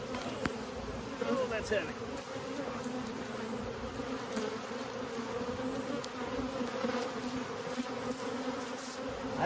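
Honeybees in a booming, crowded hive, a dense steady buzzing close up that fills the whole stretch, with a brief spoken remark over it.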